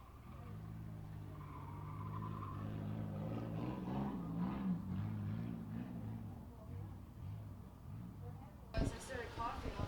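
A Chevy Malibu race car engine at La Crosse Speedway qualifying sputters and drones unevenly as it slows down the backstretch, its wavering mid-distance rumble running beneath a commentator's voice before a sharp burst of noise near the end.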